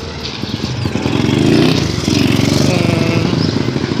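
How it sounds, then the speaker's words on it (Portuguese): A motorcycle engine buzzes nearby, growing louder and revving as it draws closer, with a steady rattling drone throughout. "a moto tá vindo pra cá"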